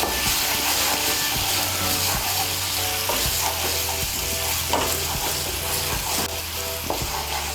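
Sour yogurt is stirred into a sizzling masala for Dhaba-style chicken bharta, with a spoon scraping the pan in a steady rhythm of close, regular strokes over continuous frying hiss.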